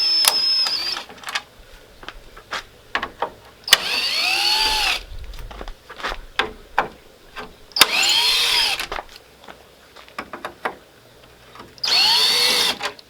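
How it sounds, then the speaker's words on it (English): A cordless power drill backs screws out of the grille on a 2000 Ford F250, running in several loud whirring bursts with quiet pauses and small clicks between them. "so I'm going to use my drill and hopefully they'll come out that way."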